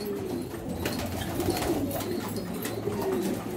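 Domestic pigeons from Damascus, Syrian pigeons kept by a fancier, cooing in a steady low murmur close by, continuous over a few seconds with no talking.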